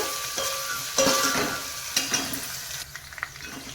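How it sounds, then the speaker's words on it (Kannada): Crushed garlic and byadgi chillies fry in a pan for tomato sambar, a soft crackling sizzle broken by a few sharp stirring clatters, close and without speech. "ಇದೀಗ ಚೆನ್ನಾಗಿ ಫ್ರೈ ಆಗಲಿ ನಮಗೆ"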